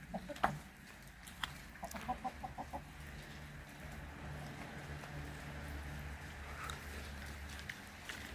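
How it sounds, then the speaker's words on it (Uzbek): Black hens near a rooster cluck in a short burst of soft, rhythmic calls early on, then fade into a steady low hum of farmyard background with no talk. "Xo'rozni yonida kichkina tovuqcha bu."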